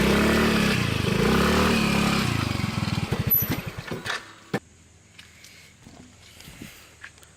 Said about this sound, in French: je prends mon scooter et je m'amuse quoi